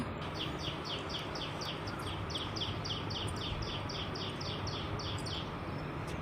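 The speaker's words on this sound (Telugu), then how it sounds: "వింటున్నారా పిచ్చుకల సౌండ్ అండి" Rapid, repeated chirping of sparrows, steady and continuous, heard at moderate distance over a constant background hiss.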